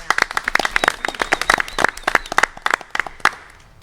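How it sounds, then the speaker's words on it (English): Applause from a board of education meeting audience, a burst of brisk, uneven handclaps from a small group, fairly close and continuing throughout with no talk over it. "I'm clapping for that."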